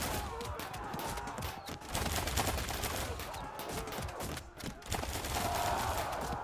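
Medieval battle sounds from the Field of Glory II Medieval strategy game, Teutonic Order against Lithuanians: dense, continuous crackling volleys of missile fire with clashing noise, moderately loud and steady, with a voice faintly present.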